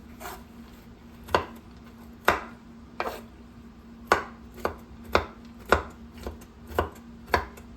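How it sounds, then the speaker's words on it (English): A knife roughly chops nuts for banana nut bread on a board, about a dozen sharp, irregular thuds spread over several seconds, close and clear with no talking. "Give them a rough chop."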